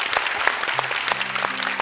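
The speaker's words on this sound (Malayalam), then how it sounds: "ആസിഫിന് ഒരിക്കൽ കൂടി നമുക്ക് നല്ലൊരു കൈയടി കൊടുക്കാം" Audience applause at a comedy TV show, steady and dense clapping throughout, fairly loud and close, with a few faint tones underneath.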